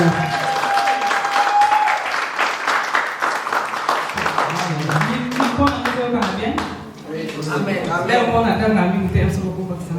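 A church convention congregation claps and cheers loudly and continuously, a dense wash of applause filling the space while a voice calls out over it and music or singing builds underneath.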